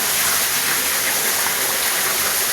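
Rushing water of a stream or small waterfall outdoors, a loud, steady broadband roar close by with no speech.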